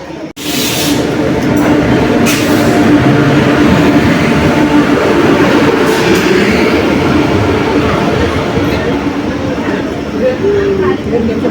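A weekly Bidar to Yeshwantpur Bengaluru express rolls through a crowded railway station, giving a loud, continuous roar and rumble that holds steady throughout. Voices can be heard over the noise.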